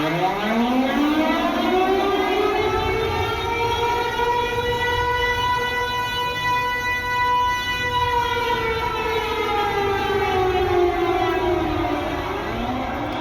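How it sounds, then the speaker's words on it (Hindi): A civil defense siren wails loud and alone, rising at the start, holding a long sustained tone, then falling away, sounded as an air-raid warning ahead of a blackout. "जैसा कि आप सुन सकते हैं ये सायरन।"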